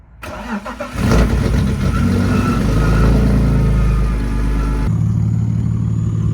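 A performance car engine revs hard close by, rising into a loud, sustained roar that holds for several seconds before easing back toward a lower rumble.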